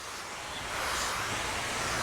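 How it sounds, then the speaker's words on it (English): A pressure washer nozzle mists water for pre-soaking a car: a steady hiss of fine spray, soft at first and then growing louder and fuller, with no voices. "Let's turn the water on"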